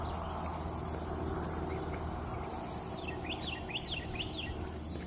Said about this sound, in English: Well, at least we can hear some birds.